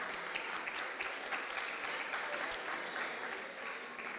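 Audience at a student chai night event gives a round of applause, an even, continuous patter of many hands heard at a moderate distance and fairly quiet.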